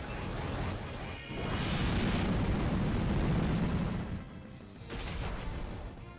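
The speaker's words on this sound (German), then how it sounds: "Explosion." Explosion move in the Pokémon Omega Ruby video game, a sustained rumbling blast that swells, dips briefly, then surges again, loud and noisy throughout.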